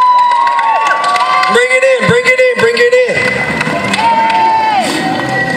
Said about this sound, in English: Let's give a round of applause for Squad!